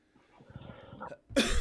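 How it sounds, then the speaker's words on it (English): A single sharp cough bursts out near the end, loud and close, after a moment of faint murmuring. "Sorry, guys, for the cough here."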